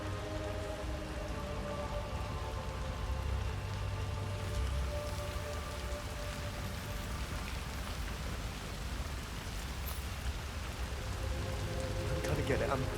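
Steady rain pours down across a city street in Hitman 3, a dense, even hiss of drops on surfaces continuing without a break.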